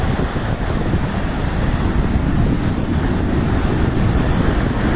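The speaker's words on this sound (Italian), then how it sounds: "le onde del mare arrivano fin vicino alla strada" Loud, continuous roar of Sicilian sea surf crashing near a road with no pauses, mixed with heavy wind buffeting the microphone.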